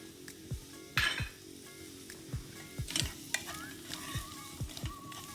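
Onion and garlic sizzling in a pan while a utensil stirs them, giving repeated scraping strokes and light clinks over a steady close frying hiss.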